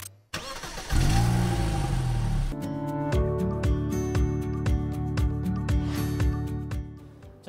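Gasoline car engine starts and revs up, then settles into a steady running note while the car pulls away, with a repeating rhythmic ticking through the engine sound; near and fairly loud, no talking.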